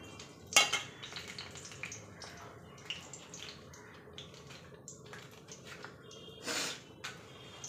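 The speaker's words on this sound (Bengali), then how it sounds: "এখন আমি গোটা মশলাগুলি ছেড়ে দিই।" Whole spices dropped into hot oil in a kadai crackle and sizzle faintly and steadily, with a couple of brief louder clatters near the start and end.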